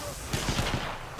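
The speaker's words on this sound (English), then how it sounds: "By the way, I shot him" A quick string of about four or five gunshots from the game Apex Legends pops close and punchy over a brief moment, fairly loud, without any talk.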